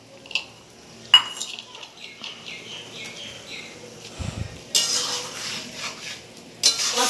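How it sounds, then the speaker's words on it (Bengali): Chicken curry being stirred in a metal pot on a wood-fired stove, with scattered clinks and scrapes of a utensil against the pot, bursts of sizzling, and faint background sounds. "কাঠের উনুনে, এতক্ষণ ধরে কষলাম"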